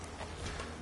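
Faint, quick hoofbeats of a horse in Skyrim VR, a soft clip-clop rhythm of a few steps under steady background noise.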